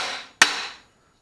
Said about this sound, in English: I'm going to take this here crowbar and this here hammer, and I was going to go along this lip on this sleeve